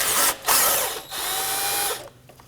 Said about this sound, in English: use that 14mm socket, loosen and remove that bolt